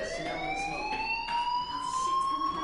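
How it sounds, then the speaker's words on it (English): School fire alarm from the video game Life is Strange, a shrill electronic tone sweeping slowly upward in pitch, steady and moderately loud with no talking. "Hey, do you hear that fire alarm?"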